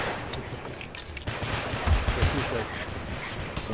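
Rapid gunfire rattles in a first-person shooter video game, bursts of shots running under a noisy, busy mix of game sounds at moderate level.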